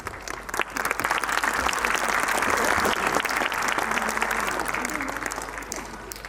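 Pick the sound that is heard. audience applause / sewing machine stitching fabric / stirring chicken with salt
audience applause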